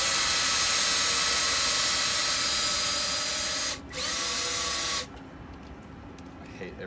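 A power drill whines steadily at high speed for several seconds while drilling into a Toyota KE70 car, dips briefly, then stops, leaving quieter room noise behind.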